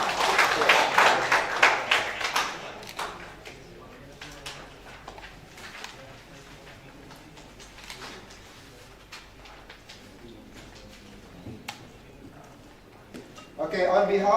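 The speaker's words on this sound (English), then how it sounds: "big applause for Dr." An audience at a conference applauds a speaker. Dense clapping opens the clip for a few seconds, then fades into room murmur and talk. A fresh burst of clapping comes in right at the end.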